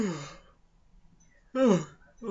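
A man gives a long, drawn-out yawn that trails off, followed by a quiet pause and then another breathy yawn-like exhale starting.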